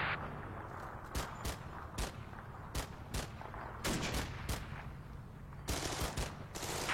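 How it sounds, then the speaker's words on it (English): A flak gun fires in a rapid irregular series of sharp booms, some close and loud, others more distant, over a steady rumbling background with no talk. "Oh, that flak gun's shooting at something."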